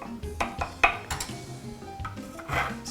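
Spatula scraping and clinking against a baking pan while scooping homemade Mexican cornbread, with scattered close scrapes and taps over a few seconds.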